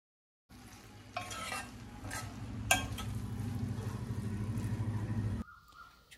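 Red sauce pasta with melted cheese is stirred in a pan, with soft scraping strokes and a few sharper clinks over a low sizzle before it abruptly cuts off.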